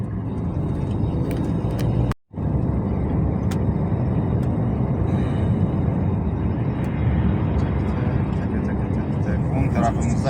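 Steady loud engine roar near an airport's terminals and cargo area, most likely aircraft, continuous throughout with a brief dropout about two seconds in.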